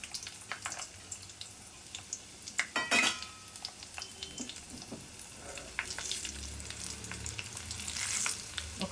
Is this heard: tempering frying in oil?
yes